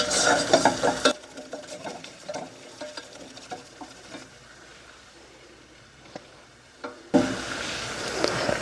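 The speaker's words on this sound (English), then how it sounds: "Get a nice roux going. Just for about a minute or two." A roux of flour and fat stirred in a pan on the stove for Easter dinner, with a louder scraping, sizzling stretch at the start and end and a quieter, sparse stirring section in between.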